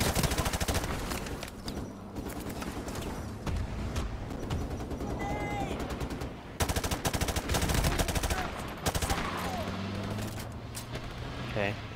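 Bursts of automatic gunfire and scattered shots in a Modern Warfare Remastered firefight, loud and nearly continuous, with a brief lull around the middle and voices talking in the background.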